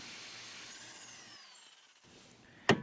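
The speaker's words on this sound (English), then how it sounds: "I'm just banging on it with the hammer just to loosen up the axle a little bit" A single sharp hammer blow on a piece of wood braced against a Toyota RAV4 front axle, struck once near the end after quiet garage background noise.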